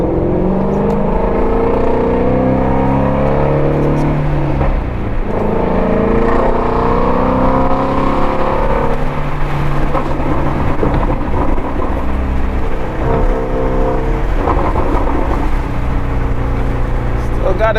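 Shelby Ford GT350 driven on wet tires to warm and dry them, its engine a loud steady rumble with shifting revs throughout, with a voice talking over it.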